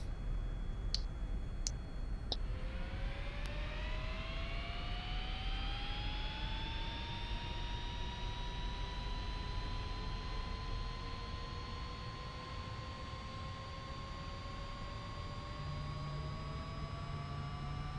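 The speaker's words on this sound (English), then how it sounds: "Engine is stable. Right engine starts." The right jet engine of a Citation S550 spools up in the X-Plane 11 flight simulator, with a few clicks at first and then a rising whine that climbs steadily and holds over a constant engine rumble, heard alone and at moderate level.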